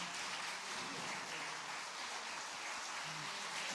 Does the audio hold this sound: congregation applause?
yes